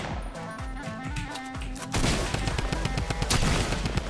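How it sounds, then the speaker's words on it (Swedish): Drum gun firing in the Fortnite video game: rapid, loud automatic bursts of gunfire, sparser thuds at first, then a dense, sustained volley in the second half, with no speech. "Den här drumgun, alltså den är freak, måste jag säga ändå."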